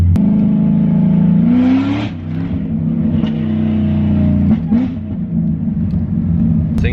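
Cadillac CTS-V with a loud exhaust revving hard, a deep, rumbling engine note that climbs and drops through several blips, close and continuous with no talk over it.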